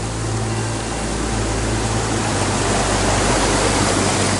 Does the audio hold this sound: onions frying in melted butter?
no